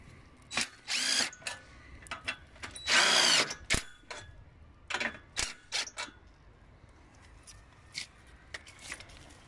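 A power drill tightening screws on a greenhouse arch frame whirs in several short bursts, with quieter clicks and handling noises between the runs.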